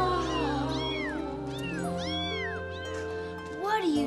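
Several high, sliding cat meows repeat over a steady low hum, each rising and falling, with a longer, lower meow near the end.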